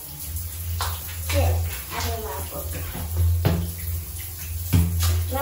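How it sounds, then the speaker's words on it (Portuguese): A shower runs during a girl's hair wash with shampoo before hair straightening, a steady water hiss under close conversation and occasional bumps. "Pode ligar o chuveiro."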